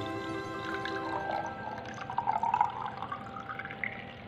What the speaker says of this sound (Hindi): अब चलिए जो ये बड़ा वाला 100 वाट का बल्ब है, इसमें हम पानी भरेंगे।